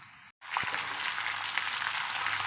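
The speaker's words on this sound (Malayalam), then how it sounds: "കുറച്ച് കടുക് ഇട്ട് കൊടുക്കാം, കുറച്ച് ഉലുവ ഇട്ട് കൊടുക്കാം, ഉണക്കമുളക് ഇട്ട് കൊടുക്കാം" Mustard seeds, fenugreek and dried chilies dropped into hot coconut oil burst into a loud, steady crackling sizzle after a brief silence, close and continuous with faint popping throughout.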